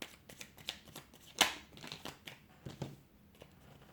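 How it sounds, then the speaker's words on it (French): A deck of tarot cards is shuffled by hand, quiet, irregular riffling flicks and soft slaps repeating close by, with one slightly stronger snap partway through. "Ah, il y a trop de cartes."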